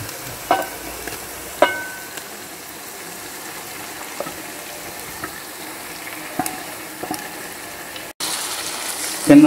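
Marinated chicken added to frying masala for a homestyle chicken chukka makes a steady, moderate sizzle in the pan, with occasional clinks and stirring scrapes and a louder burst of hissing near the end.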